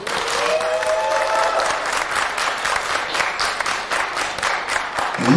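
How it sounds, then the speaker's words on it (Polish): Audience at a county wedding-band competition results ceremony in Poland gives warm, steady applause, a dense continuous clatter of many hands lasting throughout. "Jeszcze raz gorące brawa."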